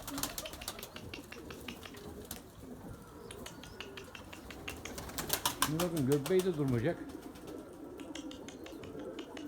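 Erzurum white pigeons coo in a few soft, warbling rolls near the middle, set among scattered clicks and light background noise while someone talks close by.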